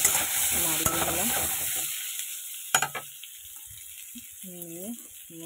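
Mango pieces stirred in a pan with dried chilli, sizzling and scraping in short bursts between stretches of speech.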